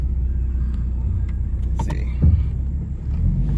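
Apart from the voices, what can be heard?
rebuilt 2012 Mustang driving on street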